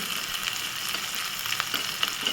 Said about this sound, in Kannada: ಒಗ್ಗರಣೆ ರೆಡಿ ಮಾಡ್ಕೊತೀನಿ ಇಲ್ಲಿ ನಾನು ಕಬ್ಬಣದ ಒಗ್ಗರಣೆ ಸೌಂಟ್ ಬಳಸ್ತಾ ಇದ್ದೀನಿ